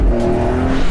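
A Porsche 911 Carrera S of the 992 generation, a turbo engine with 450 PS, droning loudly and steadily up close as it drives past, a brief sustained engine tone with no talk.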